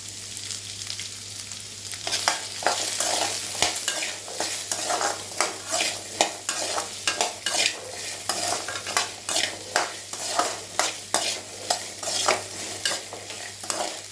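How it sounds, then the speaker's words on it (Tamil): Indian gooseberries sautéing in a pan for thuvaiyal, with a continuous sizzle broken by repeated rhythmic scraping strokes of a stirring spoon, close and fairly loud, with no talking. "இப்போ இதோட நெல்லிக்காயும் சேர்த்துடலாம். நல்லா வதங்கட்டும்."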